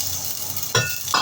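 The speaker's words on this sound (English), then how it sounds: "And then I will put the shallots and ginger." Shallots and ginger hit hot oil in a pan, giving a steady close sizzle with a brief louder burst of spattering and a light clink of a utensil near the end.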